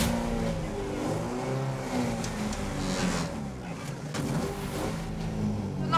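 A race car engine accelerating as the ride begins, a steady loud drone with rising harmonic tones through the whole stretch and no pauses.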